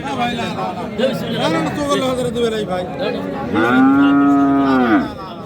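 Friesian cattle at the Ambari livestock market in Dinajpur moo in a long, loud, drawn-out call near the end, following a stretch of busy crowd chatter and talk from people nearby.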